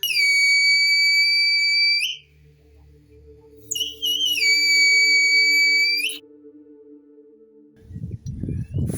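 A loud, piercing high whistle from a homemade stainless steel survival whistle sounds in two long blasts, each about two seconds with a wavering pitch, separated by a short gap, with a low hum underneath.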